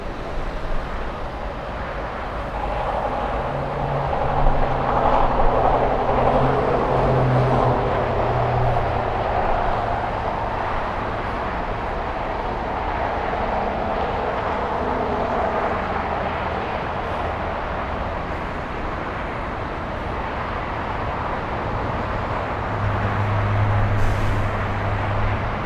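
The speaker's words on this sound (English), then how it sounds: "Lufthansa 457 flying back to Frankfurt. Racing down the runway." A Lufthansa jet bound for Frankfurt accelerates down the runway on takeoff at LAX, its engines giving a loud, sustained broadband roar that rises and holds for the full stretch, with distant wind and background rumble and no talk.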